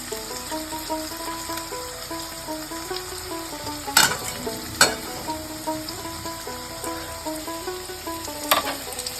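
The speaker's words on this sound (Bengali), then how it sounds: "আমার মাছের আলু প্রায় হয়ে এসছে ভাজা।" Potatoes frying in a pan for mutton curry give a steady close sizzle, broken by a few sharp scraping knocks of stirring.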